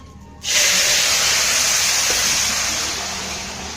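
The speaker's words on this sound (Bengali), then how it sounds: "ফোড়ন হয়ে গেছে গরম, ডালটা ঢেলে দেওয়া হবে।" Mung lentil dal poured into hot tempering oil in a home kitchen, bursting into a loud, steady broadband sizzle after a short quiet start, slowly easing off while it keeps hissing.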